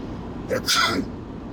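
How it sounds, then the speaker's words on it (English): A single loud sneeze, with a quick inhale leading into a sharp burst, close to the listener in an otherwise quiet setting. "Let me interrupt the story to sneeze."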